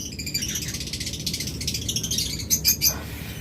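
Cockatiels, including a grey cockatiel, chirping near at hand, a continuous stream of high, rapid twittering with a few louder, sharper calls toward the end over faint background hum.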